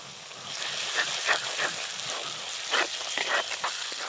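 A ground cumin and coriander spice paste fries in hot oil for mutton curry, a steady close sizzle with brief louder crackles and scrapes from stirring, and no voices.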